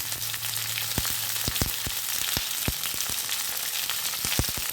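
Capsicum and green chillies frying with pumpkin in a hot pan, a steady loud sizzle with sharp crackles and spits scattered throughout, close up and with no voices.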